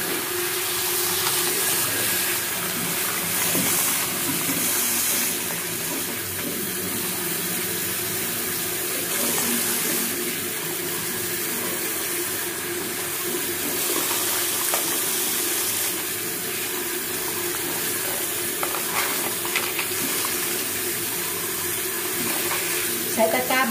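Tap water runs steadily and loudly into a sink while a gold necklace is rinsed in a small basket, with a constant splashing hiss throughout and a voice talking faintly at times.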